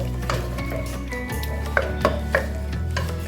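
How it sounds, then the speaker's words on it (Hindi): A spoon mixes and mashes cooked turnip in a pan, with soft scraping and a few light clinks over a steady sizzling background. "अगर आप चाहें तो इसका ऐसे चम्मच के साथ ही इसको मिक्स कर लें ऐसे इस तरह से।"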